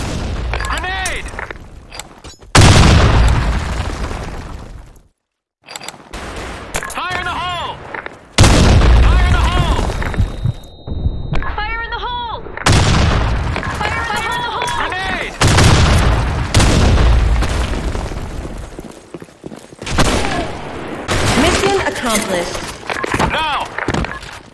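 Grenades go off in the shooter game Blackshot in a string of loud, close booms and bursts of gunfire, with spoken shouts mixed among the blasts.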